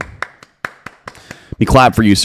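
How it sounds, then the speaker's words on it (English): Seven sharp, separate hand claps at an uneven pace, close by, followed by someone talking. "Let me clap for you, sir"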